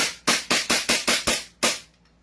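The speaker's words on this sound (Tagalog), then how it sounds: "tunog pa lang ng putok niya, ibang-iba na" A high-end Taiwan airsoft gun firing: seven sharp, loud, close shots, the first six in quick even succession and the last after a short pause, followed by quiet.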